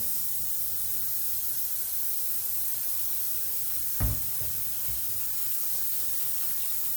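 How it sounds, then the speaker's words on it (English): A kitchen sink tap runs a steady hiss of water during handwashing, alone and close, with one brief splash or knock near the middle. "I am now going to wash my hands."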